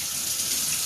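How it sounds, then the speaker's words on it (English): Tap water runs steadily into a kitchen sink, a close, continuous rushing hiss with no pauses and no voices. "So all I'm going to do is turn on the sink."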